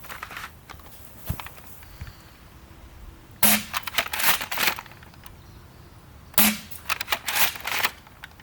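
A CEDA Model-S foam dart blaster firing Worker darts: two sharp, loud pops a few seconds apart, each followed by brief rattling handling sounds, with no talking.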